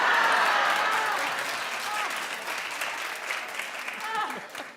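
A television studio audience claps and cheers at a talk show, a dense, loud wash of applause that thins gradually while a voice speaks faintly over it.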